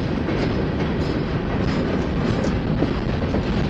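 Loud, steady rumble and clickety-clack of a freight train with a pusher locomotive rolling past close by, wheels and cars droning continuously with no talk.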